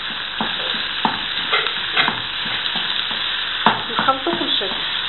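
Filling being stirred and mixed in a pan over heat for oven-baked bourek, spoon scrapes and clacks recurring every second or so against a steady close sizzle, no voices.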